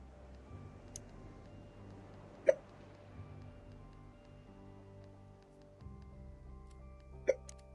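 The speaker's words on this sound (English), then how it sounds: "Oh my god, my hiccups." Sharp single hiccups from a streamer, two clear ones spaced several seconds apart against a quiet room hum.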